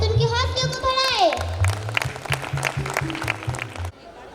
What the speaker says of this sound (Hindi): लगाने के लिए तालियों के साथ उनके हौसलों को बढ़ाएं।